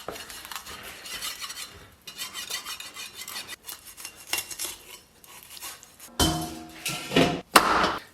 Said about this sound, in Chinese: 咱们把羊腿给它卸下来